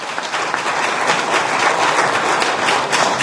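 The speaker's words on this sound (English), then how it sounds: "Let's give a round of applause to Professor Nuwagaba." Dense, steady applause from an audience thanking Professor Nuwagaba at a Ugandan investment talk, a continuous wash of many hands clapping at even loudness throughout.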